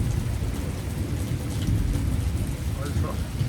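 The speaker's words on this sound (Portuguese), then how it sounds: "Com direito a trovão e relâmpago." Heavy rain pours steadily through a thunderstorm in Naugatuck, Connecticut, with low rumbling thunder rolling underneath; the downpour is loud and continuous with no talking.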